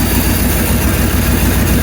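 A 1988 Chevy K2500 truck engine idles roughly with an exhaust leak, a steady loud low rumble with uneven pulsing, close by and with no talk over it.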